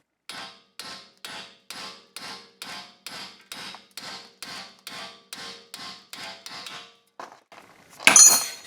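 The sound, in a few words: hammer hits on Audi S5 suspension housing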